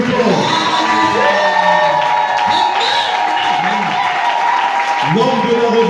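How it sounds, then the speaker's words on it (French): A church congregation cheers and acclaims loudly at a worship service, a dense, sustained crowd roar with whoops and shouts running through the whole stretch, with voices rising again near the end. "On acclame plus fort, on acclame plus fort."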